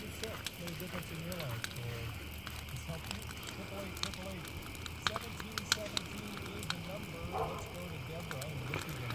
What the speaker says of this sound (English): there's a lot of crisp and crackling in the fire.